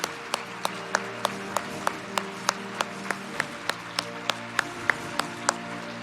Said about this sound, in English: recognize you with a thunderous round of applause from 30 years of USGLC